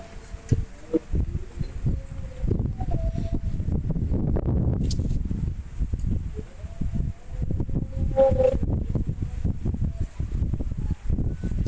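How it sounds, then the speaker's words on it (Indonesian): Strong, gusty wind buffets the microphone outdoors during an air-rifle test, a steady loud rumble lasting throughout with a few faint bird-like chirps and brief taps over it. "Ini anginnya sangat kencang banget ya"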